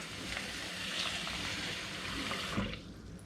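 Cold water pours steadily for a few seconds in a close, splashing stream into a chicken curry, then tapers off at the end.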